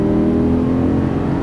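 A Lamborghini Gallardo on a race track pulls under throttle, its engine giving a dense, loud, steady drone throughout the short stretch.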